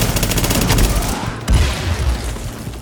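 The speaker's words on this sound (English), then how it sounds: "It's like a sniper shooting me." Rapid, continuous gunfire in a firefight in The Division, including shots from a distant sniper, with steady rattling bursts and a sharper crack midway.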